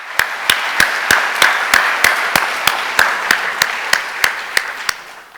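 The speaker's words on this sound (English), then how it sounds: "How about a big round of applause for our panel tonight?" Applause for a panel at an evening civic discussion, a broad steady wash of clapping with sharp regular louder claps about every third of a second standing out in a close, even rhythm.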